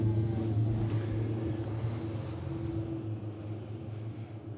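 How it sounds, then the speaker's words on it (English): Toyota Racing Series open-wheel race cars pull out for qualifying at Taupo, their engines a steady low drone with a constant rumble and tonal hum throughout, moderately loud and continuous with no speech. "as the cars start to make their way out, Murray."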